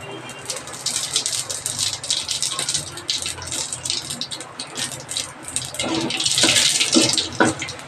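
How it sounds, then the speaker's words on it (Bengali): Radhuni seeds dropped into hot oil for tempering a shukto vegetable dish, giving a steady crackling sizzle with brighter spitting bursts near the end. "এবার দেবো রাঁধুনি ফোড়ন"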